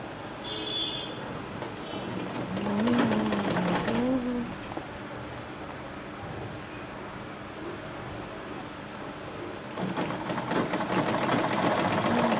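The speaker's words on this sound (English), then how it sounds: "I'll be sewing by ½ inch till I get close to the last part I sew" A sewing machine stitches a seam on a peplum top with a yoke and flared skirt, running in a steady, close mechanical whir with slight swells in intensity for about twelve seconds.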